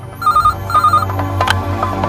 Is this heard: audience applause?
no